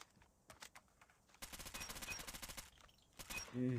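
Rapid bursts of automatic gunfire from a Call of Duty Mobile target-practice session, faint and fairly distant in the mix, firing in a steady stream of shots.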